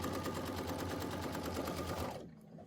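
An embroidery machine stitches a patchwork quilting block with a fast, even mechanical chatter, close and steady, then stops abruptly near the end.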